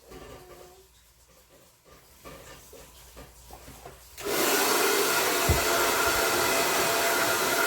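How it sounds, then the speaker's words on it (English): A blow dryer switches on partway through and runs steadily with a loud, broadband whoosh, after quieter rustling and handling sounds. "this blow dryer has got some power"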